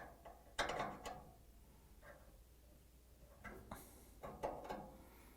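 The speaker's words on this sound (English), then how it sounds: "Now I'm going to use this 10mm wrench and I'm going to unscrew the orifice." Small metal wrench clicks and scrapes as a 10mm wrench loosens the gas orifice on an LG/Kenmore dryer burner, a few faint ratcheting ticks in quiet bursts close by.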